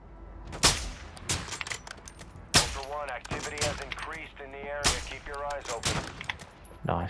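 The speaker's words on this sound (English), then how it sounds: "Gunfire down below." Repeated gunshots and automatic bursts crack out in Call of Duty, loud and close, spaced irregularly over a backdrop of battlefield noise with a voice talking underneath.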